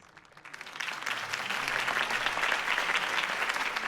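Crowd applause following a campaign speech by Harvey Dent in the Batman Telltale video game, a dense, loud wash of clapping that swells over the first second and holds steady.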